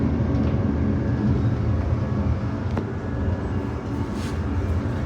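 Steady, loud rumble of a Brisbane Cleveland Line commuter train heard from inside a carriage, a constant low roar of wheels and motors with faint rattles, no talk.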